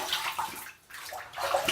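Water runs from a tap to rinse a razor during a shave, a close, continuous splashing rush that surges and dips briefly partway through.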